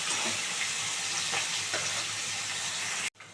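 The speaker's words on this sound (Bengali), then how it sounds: "একদম লাল করে মাছগুলো ভেজে নিচ্ছি কড়া করে" Steady, close hiss of rohu fish frying in hot oil, with faint bubbling, ending in a sudden brief cut.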